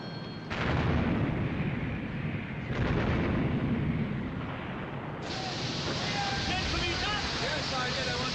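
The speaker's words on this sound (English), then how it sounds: "My God, she's firing again! With another 2 turrets!" Heavy naval gunfire from a warship's turrets in a 1956 battle film, a dense booming roar that swells loud at the start and surges again midway, with battle din and scattered voices underneath.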